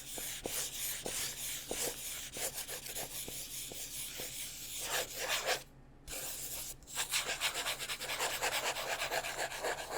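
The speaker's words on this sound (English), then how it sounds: "The first one that we have is just a little pencil." A small pencil is rubbed and scratched against paper up close, a steady rasping, scratchy texture that continues almost throughout, with one brief pause, and no voice over it.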